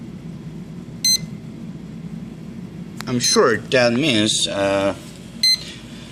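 An electronic speed controller on an RC helicopter gives short high electronic beeps, one early, a couple later, while someone talks nearby.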